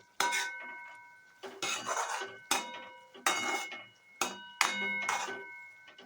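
A Marathi cluster bean bhaji is being sautéed with garam masala and peanut powder. A spoon scrapes and clinks against the pan in six distinct bursts of stirring, close and fairly quiet, with short pauses between them.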